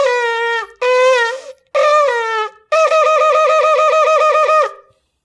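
A shofar sounds three broken, wavering blasts, then a rapid run of short staccato notes in one sustained breath, loud and close with no talk.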